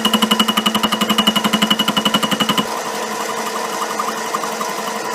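A metal lathe runs at about 700 RPM, with a loud rapid rhythmic chatter pulsing steadily for the first half, then giving way to a smoother continuous whirring hum.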